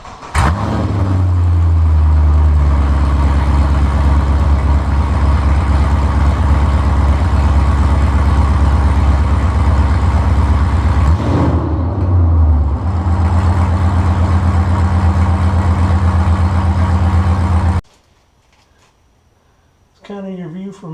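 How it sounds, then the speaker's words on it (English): LS V8 fires up with open long-tube headers, blipping briefly before a loud, rumbling close idle that holds steady, revs once midway, then cuts off, followed by a brief quiet moment with faint sound. "I'm going to start it up open headers."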